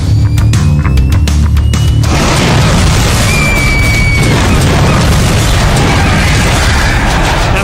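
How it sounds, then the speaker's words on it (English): A stunt car drops short and slams onto a fire cannon as it ignites, giving a loud mechanical crash and then a sustained roaring blast of flame that stays close, heavy and dense to the end. "land on one of the fire cannons as it ignites"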